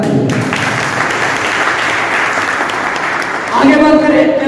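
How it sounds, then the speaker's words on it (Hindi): Audience at a health product presentation breaks into loud, dense clapping, with a voice speaking over the tail end as the applause fades. "इसके लिए मैं चाहूंगा इसके लिए एक जोरदार ताली"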